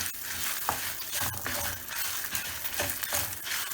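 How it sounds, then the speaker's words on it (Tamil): Dry red chillies and urad dal sauté in a pan for coconut podi, a steady sizzle and crackle with repeated scraping and stirring strokes of a spoon against the metal. "அதையும் இதோட சேர்த்து நல்லா வதக்கிக்கோங்க."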